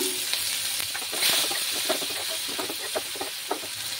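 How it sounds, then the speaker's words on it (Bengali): Onions frying in hot oil with cinnamon sticks, cardamom and whole cumin, giving a steady close sizzle with scattered crackles and soft stirring clicks throughout, no voices. "পেঁয়াজগুলো ভালোভাবে ভেজে নেব"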